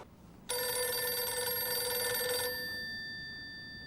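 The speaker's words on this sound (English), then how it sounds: "What am I supposed to do with a ringing phone?" A telephone bell rings in one steady two-second burst, loud and close, then stops and leaves faint room noise.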